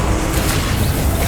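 Dense, rumbling blast from the Confringo spell in Hogwarts Legacy, a continuous booming explosion filling the whole moment at high loudness.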